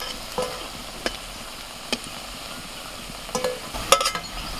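A dhoka (lentil cake) fries quietly in hot mustard oil, a soft hiss broken by a few sharp clicks and scrapes of a utensil in the pan.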